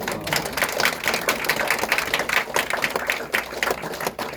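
Sustained audience applause at a Seoul gathering after a by-election for superintendent of education, many hands clapping steadily at close range for several seconds with no speech over it.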